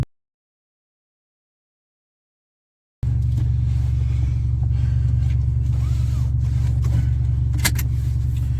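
After a few seconds of silence, a Hyundai Veloster Turbo drives along with a steady low engine hum and road rumble inside the cabin, a faint brief rattle near the end, no talking.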